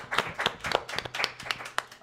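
Audience claps for a musical performer at a live show, a modest round of roughly even hand claps at a brisk rhythm, fairly close and moderately loud.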